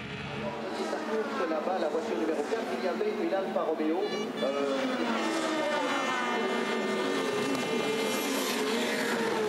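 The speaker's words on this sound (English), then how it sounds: "Jörg Müller in BMW number 42 took a narrow lead from his brother Dirk in car 43" BMW touring race cars battling around the Spa circuit, engines whining and shifting pitch as they pass, heard under steady commentary.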